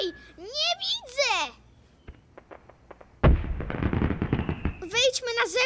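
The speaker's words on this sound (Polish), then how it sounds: "Kolejna głośna rakieta." Fireworks rockets exploding outside in a children's cartoon, a sudden loud burst followed by a dense crackling flurry of pops, with a voice talking before and after the bangs.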